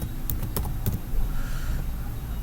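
Keys tapped on a computer keyboard while building a CSS web layout, a few sharp close clicks in a short burst near the start, then quieter steady room noise.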